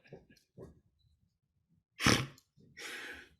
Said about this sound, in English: You just snorted.